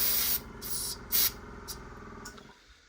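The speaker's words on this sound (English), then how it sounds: "if you spray on a bit of white first, it brings the red out." An airbrush sprays white paint onto a plastic model kit in short hissing bursts, several separate puffs of varying length, close and fairly quiet, trailing off into silence.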